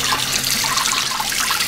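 Fruit being rinsed under a running kitchen tap, a steady broadband rush and splatter of water falling onto berries in a sink, continuous and close with no voices.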